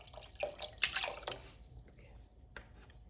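Chicken broth poured into a soup pot for homemade chicken noodle soup, a close, quiet splashing pour with gurgles that tapers into a few drips.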